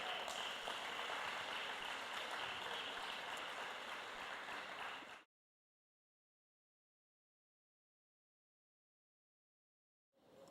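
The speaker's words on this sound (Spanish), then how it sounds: "un fuerte aplauso para ellos." Steady applause from a youth church meeting fills the first half, then cuts to silence before clapping briefly resumes at the very end.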